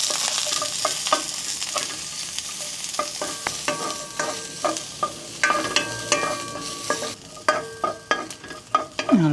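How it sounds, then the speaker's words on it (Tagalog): Garlic and onion sauté in hot oil in a frying pan, a steady sizzle broken by repeated scraping stirs and utensil clinks that quicken toward the end, with no one speaking. "Magigisa na po tayo. May mainit na po tayo mantika sa ating kawali."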